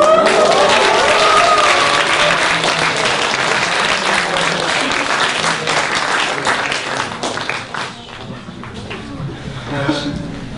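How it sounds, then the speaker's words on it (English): A magic show audience breaks into loud applause after a card trick, dense clapping that slowly thins out, with a few voices and chuckles mixed in. "the crowd goes wild with applause"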